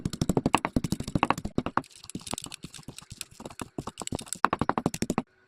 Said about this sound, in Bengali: মরিচ কুটে নেব।